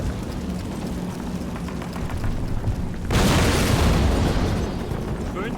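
A grenade blasts in the Call of Duty video game, a sudden loud boom that cuts in midway over a steady rumbling battle ambience and then slowly tails off.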